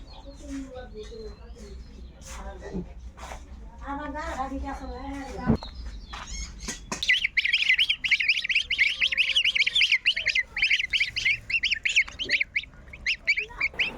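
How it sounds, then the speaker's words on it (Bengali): A few ducks in the duck house of a farm break into loud, rapid, overlapping quacks and honks that fill the second half. Someone talks first, before the birds take over. "এখন মাত্র কয়েকটা হাঁস আছে হাঁসের ঘরে কি অবস্থা"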